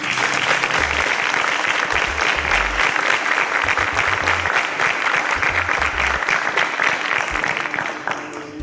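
A studio audience applauds the contestants on a competition show, a dense, loud and continuous wash of clapping that holds steady before tapering slightly at the end.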